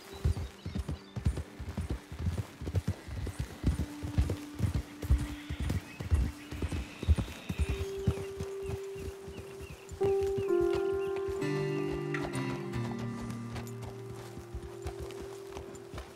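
Horses trot in Red Dead Redemption 2, their hooves clip-clopping in a steady rhythm over a rough outdoor trail. A horse neighs and snorts partway through, and the footfalls give way to a sustained low tone.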